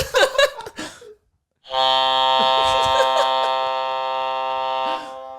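A loud, deep, sustained horn-like novelty desk buzzer blares for about three seconds after a brief burst of voices, sounding like a ship's horn.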